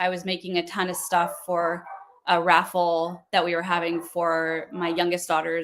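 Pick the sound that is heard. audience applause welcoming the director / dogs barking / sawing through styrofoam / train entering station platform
dogs barking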